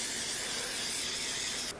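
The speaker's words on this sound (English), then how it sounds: "I'm just going to take a little bit extra spray and spray the parchment." Cooking spray hisses steadily onto parchment paper lining a cake pan for a strawberry upside-down cake, a close, continuous aerosol spray lasting under two seconds with no talking.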